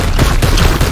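Gunfire in Warhammer 40k: Chaos Gate - Daemonhunters, a loud, dense one-second burst of rapid shots close by.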